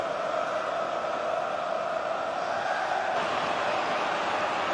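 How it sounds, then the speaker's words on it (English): A football stadium crowd late in a fifth round replay between Manchester City and Huddersfield, with a broad, sustained roar and chanting that hangs at a steady level and swells slightly toward the end. "Crowd wanting one last attack in the last few seconds of this fifth round replay."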